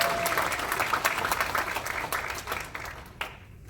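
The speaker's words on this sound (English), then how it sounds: "Let's give her a round of applause." Audience applause at an awards ceremony in Boston, a sustained crowd clapping that fades out toward the end.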